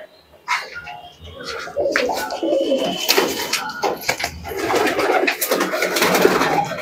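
Andhra Kalshira pigeons coo in low, throaty bursts close by, with fluttering and rustling and a faint dog bark mixed in.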